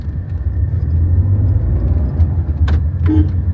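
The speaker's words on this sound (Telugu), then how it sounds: "బండి స్టార్టింగ్ కూడా ఉండి జస్ట్ సింపుల్గా అట్లా స్టార్ట్ అయిపోతుంది" A petrol Tata Tiago hatchback idles steadily with a low, continuous engine rumble, close up, and a brief rev or starter-like burst near the end; no one speaks.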